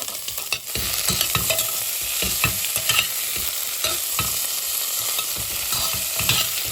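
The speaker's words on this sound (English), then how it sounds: "For 2 minutes we are going to fry, so the potato is coated with the salt and all the oil and all." Potatoes fry in oil with fasting salt, giving a loud, steady sizzle broken by frequent scraping stirs of a spoon against the pan.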